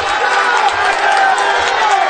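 A basketball crowd at an Italian league game cheers loudly and continuously, a dense roar of voices filling the arena for the whole short stretch.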